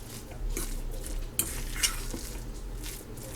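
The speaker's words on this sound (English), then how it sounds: "you're just going to drop these by spoonfuls into your hot oil" Spoonfuls of salmon fritter batter made from canned salmon sizzle in hot frying oil, a steady low crackle with a couple of sharp clinks of a spoon against the pan.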